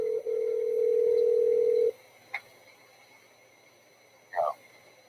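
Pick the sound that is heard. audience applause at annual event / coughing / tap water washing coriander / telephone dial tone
telephone dial tone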